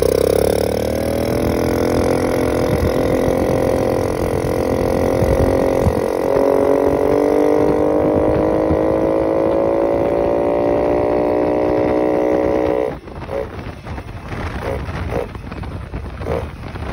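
A newly assembled, semi-loaded Honda Dio scooter engine runs close by with a loud, steady humming drone for about thirteen seconds, then the tone shifts and becomes rougher and more uneven toward the end.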